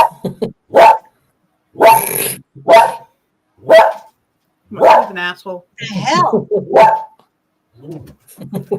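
A dog barks in a handful of short, sharp bursts spread across the stretch, close and loud, mixed in with someone talking in a home.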